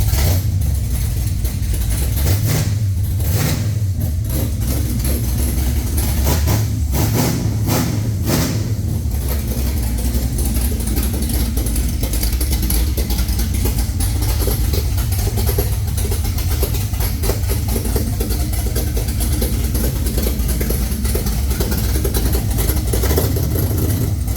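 Blueprint 454 small block Chevy in a Kingswood Streeter firing up and running, a loud, rough, steady idle with deep pulsing rumble and a few uneven surges early on, close and continuous without talk.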